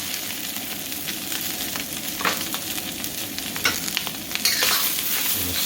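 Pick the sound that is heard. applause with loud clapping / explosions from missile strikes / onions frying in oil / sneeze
onions frying in oil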